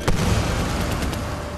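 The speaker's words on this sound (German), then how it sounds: "Dann nehmen wir mal eine Granate." A grenade blast in the shooter game Medal of Honor Warfighter, a single short booming burst that fades into a rumbling noisy tail.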